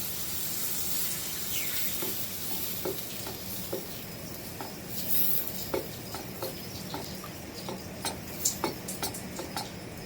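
Native country chicken meat frying in a pan, a steady close sizzle with occasional stirring clicks and scrapes, no voices.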